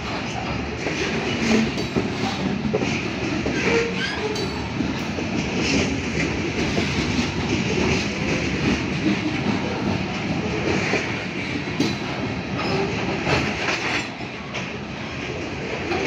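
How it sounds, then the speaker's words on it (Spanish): A freight grain train with dynamic braking rumbles past at Las Juntas, Tlaquepaque, Jalisco, with a continuous heavy roar and rhythmic clacking of wheels over rail joints, loud and close throughout. "Trenes granuleros, qué delicia"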